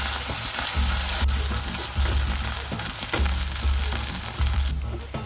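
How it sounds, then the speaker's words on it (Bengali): Onion with ginger-garlic paste frying in a pan for an egg omelette curry, loud continuous sizzling and bubbling with bursts of spatter and stirring scrapes. "আদা রসুনের পেস্টটা দেওয়ার পর কিন্তু খুব ফোটে"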